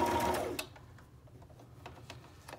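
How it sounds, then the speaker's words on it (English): A sewing machine stitches fabric scrap ribbons in a loud, steady burst that stops after about half a second, leaving a quiet room with faint small clicks and handling noises. "I just start stitching"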